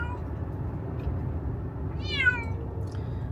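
A cat meows once, a short rising-falling cry over a steady low rumble of background noise, fairly faint and distant.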